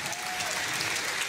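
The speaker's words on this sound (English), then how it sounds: "Give them a round of applause for showcasing the new content." Steady applause from a crowd, continuous clapping at moderate loudness for a brief stretch with no pauses.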